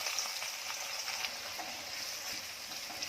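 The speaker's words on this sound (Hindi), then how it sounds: "प्याज नरम होने तक भूनूंगी।" Onions fry in oil in an iron kadhai for green peas vadi, making a faint, even, continuous sizzle with light crackle and no talking.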